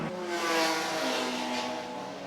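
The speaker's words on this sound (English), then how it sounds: "But here come the leaders, Kliobavicius and Jatkiewicz, both BMWs in BaTCC 3 class" BMW touring cars in the BaTCC 3 class approach during a Baltic Touring Cars race, their engines a sustained, loud mid-pitched roar that swells and shifts slightly in pitch as they come nearer.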